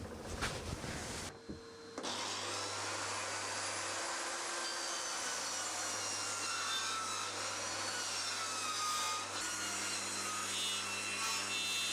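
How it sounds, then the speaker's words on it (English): Saw cutting a piece of wood in half at a 45-degree angle in a small workshop, a continuous, loud rasping stroke with a steady background hum running throughout. "You just need to cut a bit of wood in half at 45 degrees."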